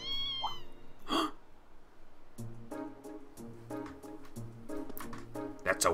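A stray kitten in the video game Trails of Cold Steel II gives a couple of short, high meows at the start, followed by a steady bed of game sounds with voice-like pulses.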